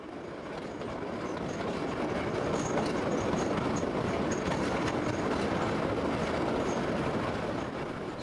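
A passenger train rolls steadily along the rails, a dense continuous rumble with faint clickety-clack and occasional high wheel squeals, heard from inside the train with no talking.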